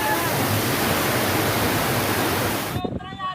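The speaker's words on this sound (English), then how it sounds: "Incessant rains triggered torrents of water on the streets of Panna," Torrents of floodwater from incessant rains rushing through the streets of Panna in Madhya Pradesh, a steady loud broadband roar like a waterfall that cuts off abruptly near the end.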